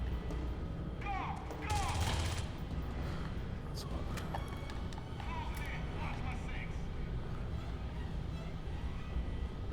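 Gunfire from a rifle in ACM Stasis Interrupted on PS3: a rapid burst of shots followed by scattered quieter reports, fairly faint and mixed under people talking.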